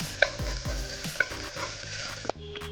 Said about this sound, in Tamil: இப்போது இதை நெய்யில் நல்லா வாட்டி எடுத்துக்கோங்க.